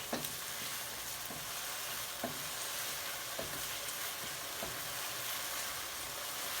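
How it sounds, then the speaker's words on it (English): Mushrooms stir frying in a pan, a soft steady sizzle broken by regular scraping and stirring taps from a utensil, fairly quiet and close with no talking. "And we want to stir fry the mushrooms."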